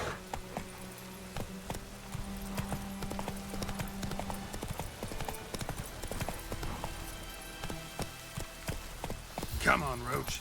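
Hooves of the horse Roach clip-clop in a rhythmic gallop in the video game Witcher 3, close and steady with some whinnying and other game sounds, while a person talks over it.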